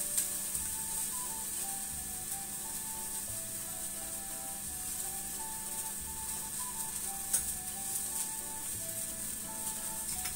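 Spiced stuffing for Egyptian stuffed pigeon (hamam mahshi) sizzles steadily in a hot pan, an even, close frying hiss that continues without pause. A faint melody plays softly underneath.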